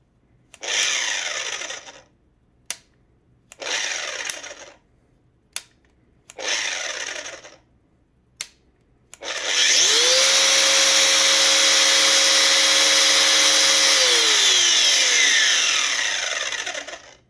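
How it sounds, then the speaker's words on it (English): An angle grinder powered by an AllPowers R1500 portable power station spins up in several short loud bursts that cut off abruptly, then runs steadily for about eight seconds with a whining tone before stopping. "which kills the angle grinder when the output voltage of the power station drops under the heavy load"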